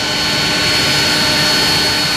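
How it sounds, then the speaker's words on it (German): The left jet engine of an airliner spooling up on start, a loud, steady roar with a high whine held close by throughout. "Und jetzt machen wir das linke Triebwerk an, das kann man jetzt hier sehen."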